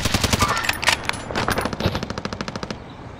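Gunfire in Modern Warfare hardcore Search and Destroy starts with a few loud scattered shots, then a rapid, evenly spaced automatic burst that stops abruptly, close and sharp.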